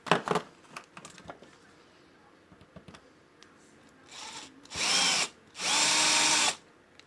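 A power drill drills out a rivet on a Fender 300 PS amplifier. Scattered light clicks and handling come first, then a short whirring burst and a second, longer, louder one close by.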